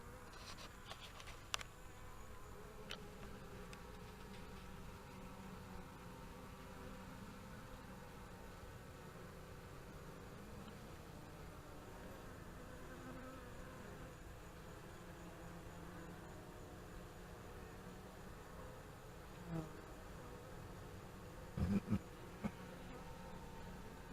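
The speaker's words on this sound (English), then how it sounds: "We have got a good size swarm of bees." A steady, low drone from a good-sized swarm of bees at a top bar hive hums throughout, fairly faint and continuous, with a few soft knocks near the end.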